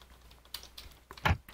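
Fingers tap a computer keyboard in a few quick, close clicks, irregular and sparse, with one louder keystroke cluster near the end, in a quiet room without speech.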